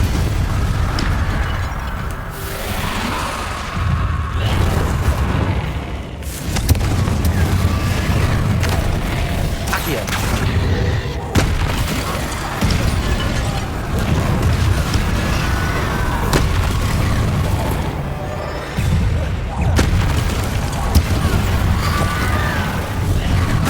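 Repeated Confringo fire spell blasts in Hogwarts Legacy, heavy booming explosions and bursts coming one after another over a dense, loud rumble of game combat, with some voice mixed in.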